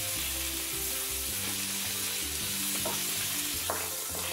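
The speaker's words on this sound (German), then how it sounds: "Wir braten das Ganze portionsweise an, dass es auch schön kross und dunkel wird." Fajita ingredients fry in a pan in batches, with a steady close sizzle and a few scraping stirs near the end.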